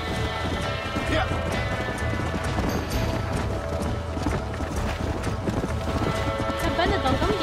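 A horse gallops in the video game Red Dead Redemption, with steady, rapid clip-clop hoofbeats over continuous game ambience and a voice talking.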